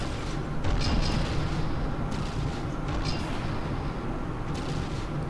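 Cannons on a turtle battlecruiser fire in From The Depths, a steady low rumble of repeated booming shots and mechanical clatter, fairly loud and continuous.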